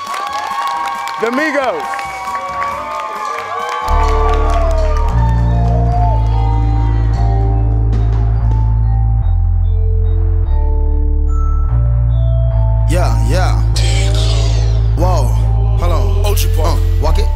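Cheering crowd at a live hip-hop show, loud and busy with shouts and clapping, giving way after a few seconds to a booming bass-heavy music track that dominates the rest, with an announcer's voice over the start.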